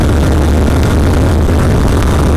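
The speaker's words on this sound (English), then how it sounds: "We got so much wind and so much wind noise that it got so annoying really quickly" Steady roaring wind buffets riders on motorcycles without windscreens, a Suzuki SV650 and Yamaha MT-07 on the highway, a loud, continuous broadband rush with low engine rumble underneath.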